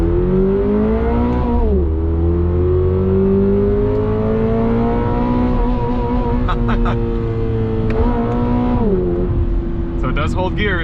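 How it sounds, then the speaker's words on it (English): A 2022 Subaru BRZ engine rises in pitch under acceleration, with quick paddle-shifted gear changes dropping the revs around two and nine seconds, heard from inside the car with a voice talking over it throughout. "the paddle shifters do a really good job shifting quickly"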